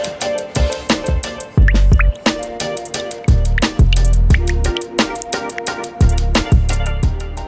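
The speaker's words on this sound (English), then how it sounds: "I'm desperately trying to manage this nasty dripping." Condensation water drips indoors, each drop landing close and loud in an irregular series of sharp plinks and dull thuds, with no one speaking.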